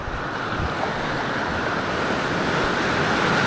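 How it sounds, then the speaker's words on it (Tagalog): Steady, heavy roar of crashing surf with continuous wash and some wind, loud and close throughout. "Grabing alon."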